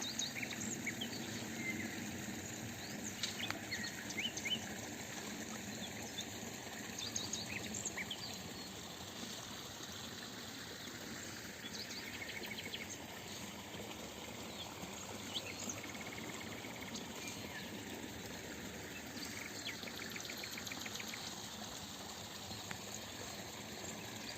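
Steady rushing water fills the background while birds chirp and sing intermittently over it, a continuous outdoor ambience without talking.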